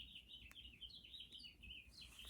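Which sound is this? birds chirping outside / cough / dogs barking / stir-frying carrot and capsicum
birds chirping outside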